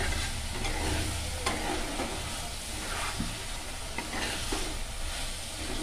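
Spice masala for a Bengali pabda fish curry fries in oil while being stirred, a dense, steady, close sizzle with scraping stir strokes throughout and no talking.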